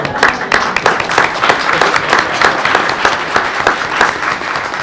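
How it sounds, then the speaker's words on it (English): A board meeting audience claps steadily for a few seconds, dense and fairly loud, with individual hand claps standing out in the crowd. "let's give each other a round of applause"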